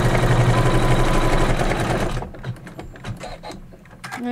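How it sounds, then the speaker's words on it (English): A sewing machine stitches the outside line and detail stitching on a quilted pillow cake block, running in a steady rapid whir for about two seconds before stopping, followed by quieter clicks and handling noises. "Doing that outside line and some detail stitching here."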